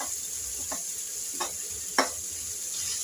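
Cabbage with onion-garlic masala and turmeric is stirred in a pan over a steady background sizzle, with a few soft scraping strokes of a spatula at intervals.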